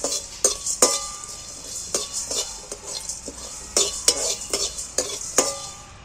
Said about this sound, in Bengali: আমি এটা শুকনো খোলায় নেড়ে চেড়ে ভেজে নেব একটু